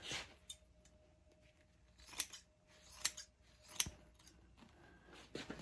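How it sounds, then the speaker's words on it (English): Scissors cut through upholstery fabric on a chair being reupholstered, giving three or four crisp snips spaced about a second apart over a faint room background, with no talking. "So this is going to be trimmed off."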